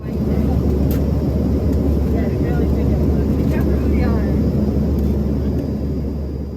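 Steady, loud cabin drone inside an American Eagle ERJ145 regional jet in flight at night, a constant low roar with faint rustles and clicks on top, unbroken throughout.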